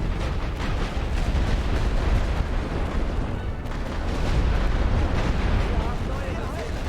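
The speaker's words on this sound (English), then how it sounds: "they're dropping artillery on us" Artillery fire and explosions in the World War I strategy video game The Great War: Western Front form a continuous, loud rumble of booms and bursts with no clear gaps, and a voice speaks over it.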